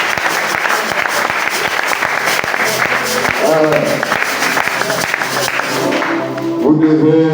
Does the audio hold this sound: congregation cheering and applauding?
yes